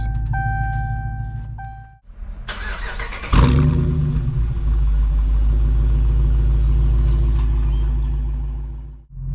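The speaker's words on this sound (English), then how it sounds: "take out this Challenger RT on the Autobahn and see how it goes" A 2019 Dodge Challenger R/T with a 5.7-liter Hemi V8 cranks and fires up with a loud burst, then settles into a deep, steady, rumbling idle close by, no talking over it.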